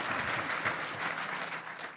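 An audience at a talk on Indigenous representation in politics in Ottawa breaks into steady, dense applause that fills the room from start to finish at a fairly even level.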